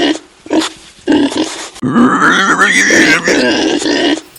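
Pig grunts come in short bursts early on, then a louder, longer run of squealing grunts fills the rest, close and in rapid succession.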